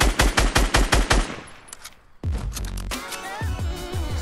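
Rapid automatic gunfire in Fortnite Battle Royale, a fast burst of about nine loud shots followed by a short lull, then dense game effects and more shooting. No speech.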